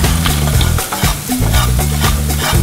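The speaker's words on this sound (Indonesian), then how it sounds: "Gula merah secukupnya, aduk sampai gulanya larut." Palm brown sugar stirred in a frying pan with a spatula for sweet-sour fried tempeh, loud scraping strokes in a steady rhythm over a continuous close sizzle.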